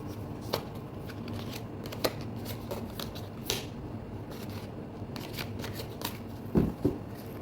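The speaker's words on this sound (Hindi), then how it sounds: "देख लेते हैं एक दो कार्ड और निकाल के" Tarot cards being shuffled by hand, a steady soft riffling and papery rustle punctuated by a few sharper flicks and slaps, close and fairly quiet with no speech.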